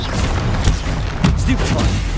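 Confringo blasting-spell explosions in the Hogwarts Legacy video game, heard as loud booming thumps and bursts over dense in-game combat noise.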